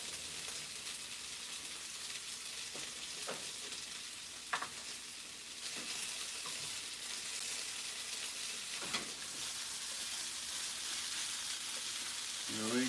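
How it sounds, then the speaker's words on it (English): Food sizzling in a hot pan on a home stove in the morning, a continuous crackling hiss with scattered pops and spits throughout, steady and close with no talking. "You can hear it sizzling."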